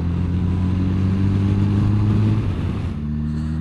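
Yamaha FJR 1300 motorcycle engine pulling hard under acceleration, a loud steady mid-pitched drone with strong harmonics that holds for several seconds, then dips briefly as the revs shift near the end.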